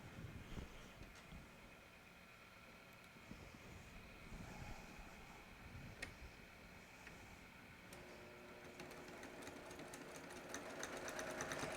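A sewing machine runs steadily while stitching a quilter's quarter-inch seam, a continuous close mechanical whir with no talking.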